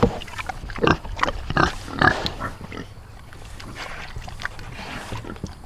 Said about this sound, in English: This pig is still pigging out.